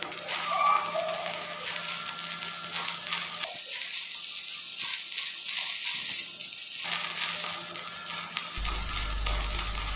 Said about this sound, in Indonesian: sangat nyaman dipakai untuk mengelas besi dengan ketebalan 5 mm